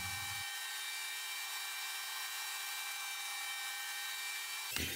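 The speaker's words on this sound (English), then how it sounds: "Next, I passed the piece through the thickness planer." A thickness planer feeds a wooden fretboard blank for a homemade electric guitar, giving a steady, loud machine whine with a constant tone that runs almost the whole time, starting and stopping abruptly at the ends.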